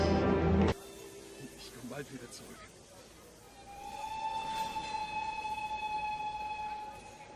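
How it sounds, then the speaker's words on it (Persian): A train pulling away, with a brief loud burst at the start, then a long steady whistle or siren tone sounding from about midway over low rumbling noise; people talk nearby. "ساتوان، قطار داره حرکت میکنه، سوار شید."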